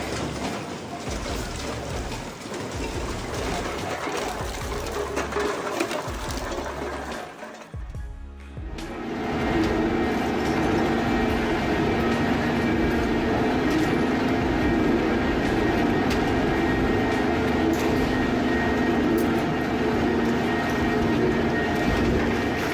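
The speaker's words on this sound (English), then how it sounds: "The dual shafts run at variable RPMs for self-cleaning action." Dual-shaft industrial scrap shredder running, a dense, loud grinding and rumbling roar with a steady hum, briefly dipping midway before returning stronger and continuous.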